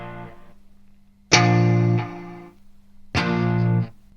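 Distorted electric guitar playing sustained, gritty power chords in a produced song, three loud struck chords ringing out with thick, saturated tone and short gaps between.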